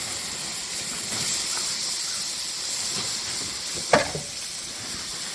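A big fire flares up while pork ribs grill outdoors in winter, giving a steady, loud hissing sizzle throughout with one brief sharp pop near the end.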